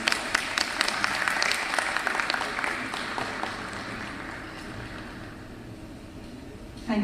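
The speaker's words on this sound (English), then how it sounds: "A huge round of applause" An audience at a summit in Dubai applauds a guest being invited up, brisk clapping with prominent close claps at first that thins and fades over several seconds, followed by a brief bump of noise at the end.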